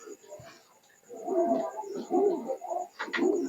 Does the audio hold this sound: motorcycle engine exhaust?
no